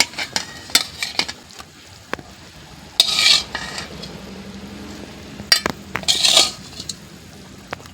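Fish cooking in a pan for a tomato curry, a soft sizzle broken by metallic clinks of a spoon and two louder bursts of spattering hiss, close by with no talk.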